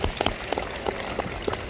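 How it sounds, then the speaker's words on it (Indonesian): A seated audience at an anniversary ceremony of a midwives' association claps steadily for about two seconds, a moderately loud patter of overlapping hand claps in a hall. "Kita berikan aplaus untuk beliau."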